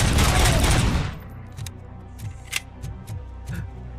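Gunfire in the video game Robocop: Rogue City: a dense, loud burst of rapid shots for about a second, followed by quieter scattered clicks and thuds.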